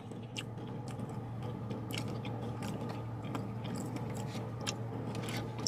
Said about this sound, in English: Hit some more of these garlic parmesan fries.